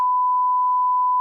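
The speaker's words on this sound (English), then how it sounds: "we'll beep it" A single steady censor beep, a pure tone held for just over a second at even loudness, starting and stopping abruptly.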